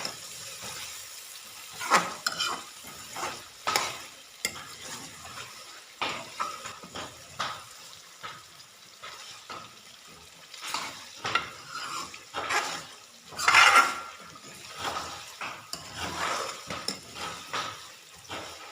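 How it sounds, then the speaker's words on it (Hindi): Chicken liver fries in oil with garlic while a spoon stirs it, giving a steady close sizzle with repeated scraping and clinks against the pan across the whole stretch, with no talking. "ऑयल के अंदर और लहसन के अंदर 5 मिनट भूनना है।"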